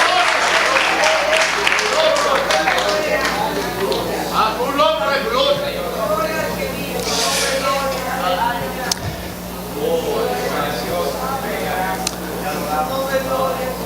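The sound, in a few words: church congregation applause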